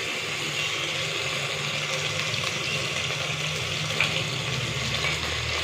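Ginger garlic paste frying with browned onions in a pan, a steady soft sizzle holding constant, faint and continuous with no talk.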